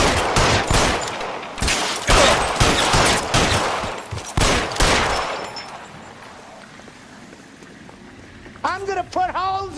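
Rapid bursts of gunfire in an L.A. Noire shootout, loud and clustered for about five seconds, then fading to a quieter rumbling bed. Short bursts of shouting follow near the end.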